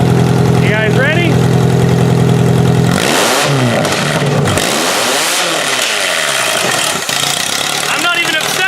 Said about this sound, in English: It's got a little bit of a backfire now, which is kind of cool.